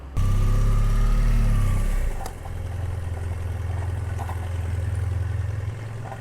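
A motorcycle engine drones loudly with a low, steady rumble while riding at the Geodesic Center in Chapada dos Guimarães, dipping briefly as the revs change before settling into a constant riding note.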